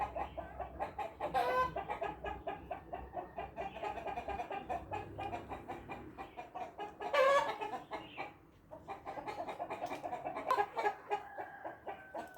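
Several chickens cluck and chatter continuously at moderate distance, with a few louder squawks standing out now and then.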